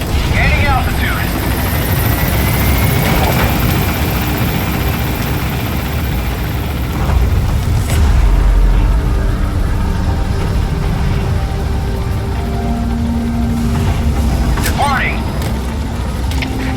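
A helicopter in the Metal Gear Solid V: The Phantom Pain video game lifts off with a loud, continuous rotor drone and engine rumble, which swells briefly midway. Radio-style voices talk over it at times.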